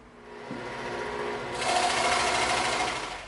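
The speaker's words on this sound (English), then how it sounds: "we can feed our scroll saw blade through it and cut that inside out" A scroll saw cutting through EVA foam gives a fairly faint, steady mechanical buzz that starts up and grows brighter and louder partway through, continuing without a break.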